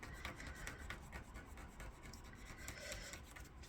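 A scratch-off discount card being scratched by hand, a dry raspy rubbing made of short repeated strokes, close and fairly quiet, with nobody speaking.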